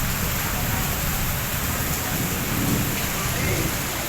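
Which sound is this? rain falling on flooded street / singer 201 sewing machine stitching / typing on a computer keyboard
rain falling on flooded street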